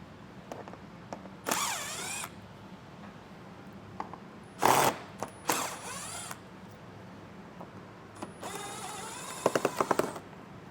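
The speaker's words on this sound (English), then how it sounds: "We'll just take a 7mm socket and remove all of those." A 7mm socket on a ratchet backing out front fascia screws on a 2018 vehicle during a base plate install: short bursts of rapid mechanical whirring and clicking, several separate runs with quiet pauses between.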